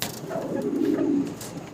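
A Shadel Lakkha pigeon gives one soft, low cooing call close by, with light background noise around it.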